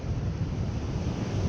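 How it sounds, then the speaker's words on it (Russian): Strong southerly wind gusts on the seashore at Geroyevskoye village near Kerch, roaring steadily as broadband rumble and hiss into the microphone, with surf blended in and no voices. "Ветер порывами до 17 метров."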